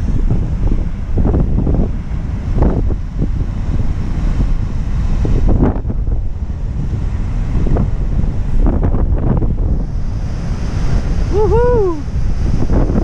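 Heavy ocean surf rolls and crashes on rocks continuously, loud and close, with strong wind buffeting the microphone; a brief rising whistle-like tone appears near the end.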